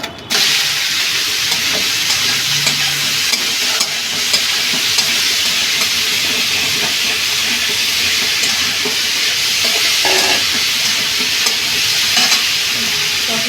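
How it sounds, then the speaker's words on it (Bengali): Pointed gourd (potol) fries in a pan, a loud, steady sizzle with close crackling and occasional stirring scrapes, running unbroken from start to finish without any voice. "এবার পটলগুলো একটু ভেজে নেব"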